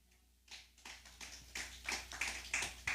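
Church congregation clapping along during an evangelical Spanish-language sermon: a series of quick, irregular hand claps that builds from a quiet start into a steady, rhythmic patter, fairly close and without talk.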